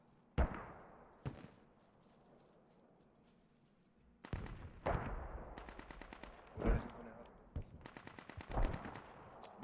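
Gunfire in a battle royale video game: isolated shots at first, then a cluster of rapid bursts and single cracks, some loud and near, others fainter, with quiet gaps between.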